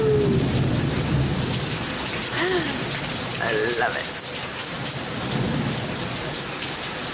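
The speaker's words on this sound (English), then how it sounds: "Rootin' tootin' little rainfall here." Steady rain hisses throughout with distant rumbling thunder in Thailand, while a person briefly speaks over the downpour.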